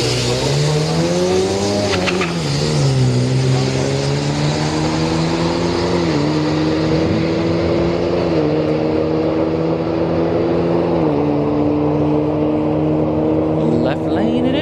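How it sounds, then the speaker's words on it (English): Two Ford EcoBoost Mustangs drag racing at a night street drag event at Orlando Speed World, loud engines rising and shifting through gears with a steady roar of crowd and track noise, a commentator talking over it. "Now it looks like we got two EcoBoost Mustangs here."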